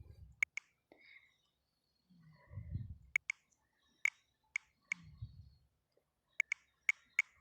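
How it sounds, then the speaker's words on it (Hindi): Android phone keyboard click sounds during typing, a string of faint, crisp taps arriving irregularly and sometimes in quick pairs, heard up close alongside soft low murmuring speech. "जब हम अपने कीबोर्ड पर टाइप करेंगे मैसेज वगैरह या फिर कोई भी चीज़ टाइप करेंगे"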